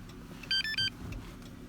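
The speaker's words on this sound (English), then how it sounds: "And now we heard the little beeps." Three quick high electronic beeps in a row from a key fob being programmed for a 2008-2014 Dodge Challenger, sounding clear and close over a low background hum.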